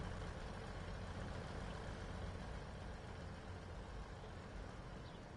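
In the video game Train Sim World 4, the diesel engine of a two-car BR Class 158 unit idles steadily at Edinburgh Waverley, a low continuous rumble and broadband hum, unchanging throughout, no voices.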